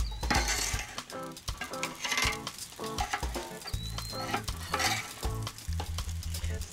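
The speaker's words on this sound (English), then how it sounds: "So once the dough starts to bubble on top, just give each bake a turn and cook the other side the same way." Dough bakes fry in oil in a pan with a crackling sizzle. Frequent clinks and scrapes of a utensil against the pan run over a rhythmic tonal background that sounds like music.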